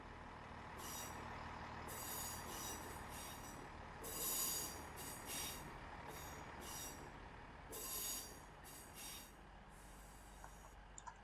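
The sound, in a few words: diesel passenger train arriving at station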